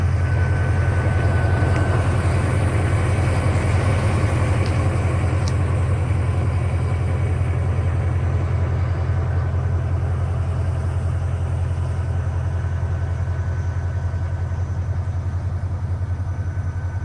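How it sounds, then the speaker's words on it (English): Mercedes-Benz CL550 engine running at a steady idle after a cold start, a constant low rumble with a faint whine on top, unchanging for the whole stretch and with no talking. "Listen to the car, listen how it's running."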